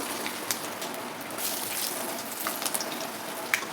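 Bay leaf and five-spice tempering sizzling in hot oil, a soft, steady crackle with scattered small pops, fairly quiet throughout.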